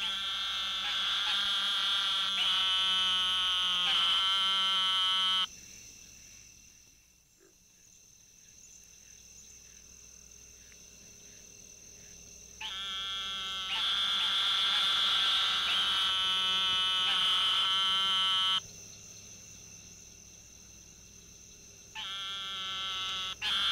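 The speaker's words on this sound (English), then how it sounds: "This is a call of the eastern narrow-mouthed toad, Microhyla carolinensis." Eastern narrow-mouthed toad, Microhyla carolinensis, giving long nasal buzzing calls, two extended bouts separated by a quieter pause, over a steady background chorus of insects and other frogs.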